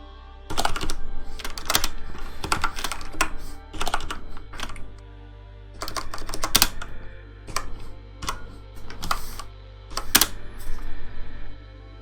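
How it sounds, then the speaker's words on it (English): Rapid bursts of typing on a computer keyboard during C++ programming, crisp clicking keystrokes in close, uneven runs separated by short pauses, with a steady low hum underneath and no talk. "I need to really stop fat fingering the keyboard"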